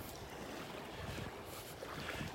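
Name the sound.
wind on the beach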